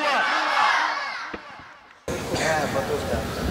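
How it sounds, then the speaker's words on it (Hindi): A large gathering at a religious address in Karachi chants Takbir slogans, a loud massed roar of voices that fades, then cuts abruptly into renewed crowd chanting. "उनको कि आने से पहले तकबीर के नारों से इस्तकबाल करें।"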